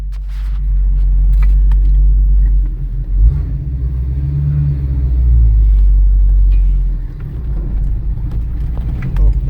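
A car with big GTO stabilizer bars front and back pulls away and drives off, its engine a loud, steady low rumble that swells as it accelerates through the gears.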